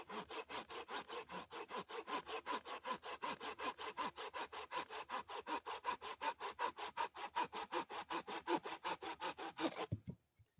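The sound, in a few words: hand saw cutting a wooden branch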